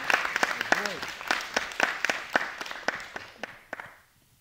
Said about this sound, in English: So I'd like to give another round of applause to RJ.